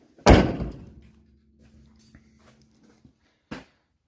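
A door on a Ford F350 dentside truck swings shut with one loud, solid slam and a ringing tail, followed a few seconds later by a shorter, softer thunk.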